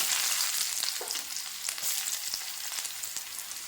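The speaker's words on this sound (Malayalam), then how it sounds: "1/4 സ്പൂൺ കടുക്, ചെറിയ ഉള്ളി ഇട്ട് കൊടുക്കാം." Mustard seeds and small shallots frying in hot oil for a Kerala thoran, a dense steady sizzle with scattered sharp crackles and pops, close and continuous with no talking.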